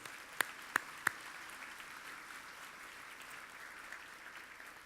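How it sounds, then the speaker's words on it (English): A large conference audience at a homelessness gathering in Winnipeg applauds in a steady, distant wash of clapping, with a few sharp louder claps near the start and no talking. "I'd like you to give them a huge round of applause for their work here"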